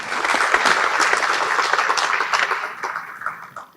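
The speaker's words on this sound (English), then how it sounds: "let's have one more round of applause for the United States Navy and the United States Naval Academy" A ceremony audience applauds the United States Navy and Naval Academy at a military recognition event, a steady round of many hands clapping together that gradually thins toward the end.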